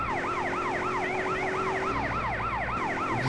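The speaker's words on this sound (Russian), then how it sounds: "Фаертрак получается, пожарная машина." Wailing fire-engine siren in a roleplay patrol video game, loud and steady, its rising and falling sweeps repeating continuously with a low engine hum beneath.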